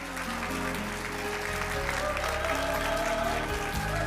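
Sustained applause from a large audience at a fire service New Year ceremony, a steady broad wash of clapping over low music or hall hum, with no break.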